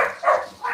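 A dog gives two or three short, sharp barks in quick succession, close and fairly loud, with brief pauses between them.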